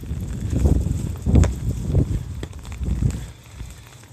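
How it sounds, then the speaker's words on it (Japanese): Strong gusting wind before an approaching typhoon buffets the microphone in loud, uneven surges that rise and fall, with rumbling low bursts and no speech. "まあ風がちょっとね強くなってきてるね。"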